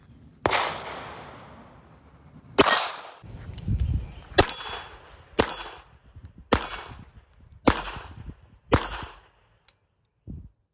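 Beretta 3032 Tomcat .32 pistol fired at a steel plate, about seven sharp shots spaced roughly a second apart, each followed by a ringing metallic clang from the target, outdoors at a range with no talk.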